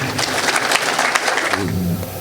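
An audience applauds Khabib Nurmagomedov with a steady wash of clapping that holds evenly throughout, with a voice briefly audible near the end.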